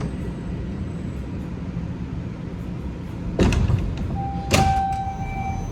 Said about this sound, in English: Doors will open on the left.